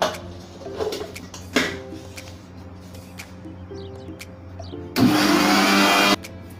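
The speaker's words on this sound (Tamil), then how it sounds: "உப்பு, நெய், இது எல்லாமே மிக்சிலேயே ஒரு சுற்று சுற்றிக்கிறோம்." A kitchen mixer grinder whirs loudly for about a second, spinning atta flour with salt and ghee, after quieter clinks and faint kitchen noise.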